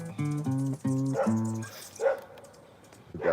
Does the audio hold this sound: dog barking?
yes